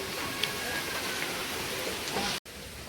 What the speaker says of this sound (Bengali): এই বৃষ্টি আজকে আর থামবে না।